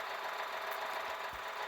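Tractor engine in the Farming Simulator 2014 video game running with a steady droning hum, constant and unbroken throughout, with no voices.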